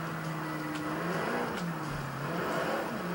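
A car engine revs high and steady while drifting in Forza 4, its pitch dipping and climbing between corners, with a continuous tire and engine roar throughout.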